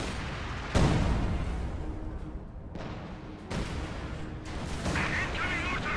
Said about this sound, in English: The Su-76 barrage doesn't honestly do like that much, unless it gets a perfect direct hit.